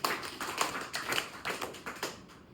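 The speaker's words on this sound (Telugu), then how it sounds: "క్లాప్స్ కొట్టేటప్పుడు finger to finger, palm to palm, అరిచేయి వేలి టచ్ అవ్వాలి" Hand claps struck palm to palm during a laughter yoga session, a steady run of about a dozen sharp, moderately loud claps in even rhythm, with no talking.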